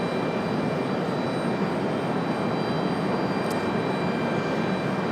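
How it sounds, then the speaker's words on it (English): A Delta airliner, flight 37 from London Heathrow diverted to Raleigh-Durham, gives a steady, broad jet roar that holds at an even level throughout with no voices. "There is that Delta 37, supposed to be headed to Atlanta, coming here as a diversion, coming from London Heathrow"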